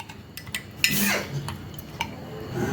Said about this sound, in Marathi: आता ह्याच्यामध्ये थंड पाणी टाकते थोडंसं आणि हे चांगलं मिक्स करून घ्यायचं आहे.